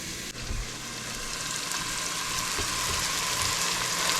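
Red onions frying in a pan with garlic and ginger for chicken fried rice, a soft, even sizzle at moderate level that builds slightly and runs steadily, with one brief knock near the start and no voices.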